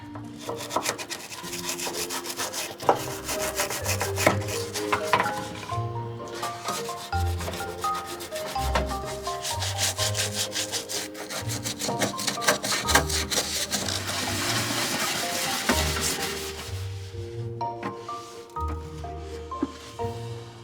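An interdental toothbrush scrubs the gas hole of a narrowboat stove burner, making close, continuous bristly rubbing and scraping in short back-and-forth bursts, with faint metallic clicks and no talking.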